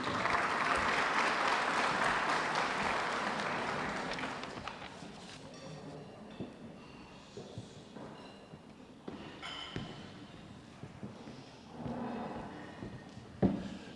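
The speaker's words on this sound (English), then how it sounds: "Round of applause, please." A banquet crowd at a police department's annual awards gives a loud round of applause for a city council member; dense clapping fills the first few seconds, then thins out into scattered claps and room noise.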